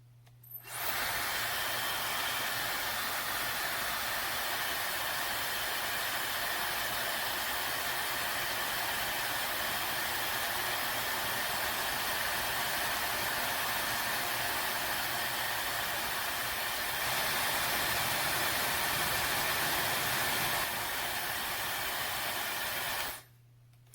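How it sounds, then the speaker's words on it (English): A Laifen Swift Special hair dryer with diffuser blows steadily with a loud, even whooshing hiss, switching on at the start and cutting off at the end. "that was just a quick demonstration of the hairdryer at work"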